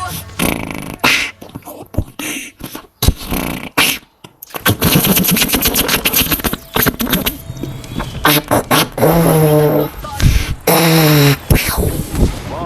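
Gunfire in the mobile game ROV (Arena of Valor), with rapid bursts and single shots, loud and dense, mixed with game effects and music over about twelve seconds.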